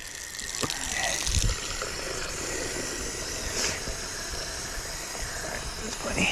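Water runs steadily from a campsite tap at a provincial park, a continuous hissing gush heard up close with faint outdoor background.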